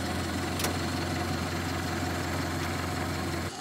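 A Ford SOB car engine idling, a steady low rumble with an even mechanical hum throughout, heard close and alone before it briefly cuts off near the end.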